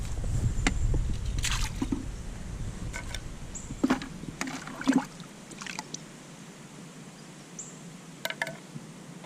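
Pool skimmer basket scooped full of water and leaves, then dumped back over into a clear backyard pool: low sloshing at the start, followed by a few scattered splashes, drips and wet squishes, fairly close and quiet.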